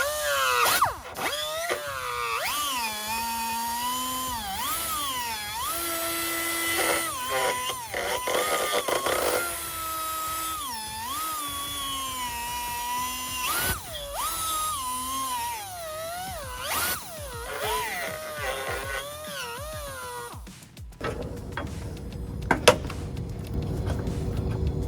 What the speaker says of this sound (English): in order to put the bolt in it, we're going to have to grind out some of the plastic